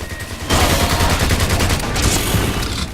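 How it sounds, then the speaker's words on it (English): Auto shotgun blasting in rapid succession in the shooter God Mode, a loud continuous stream of heavy shots beginning after a brief lull and running to the end. "I'm currently using an auto shotgun now"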